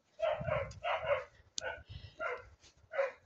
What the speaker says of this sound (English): I think Ozzy set the dogs off.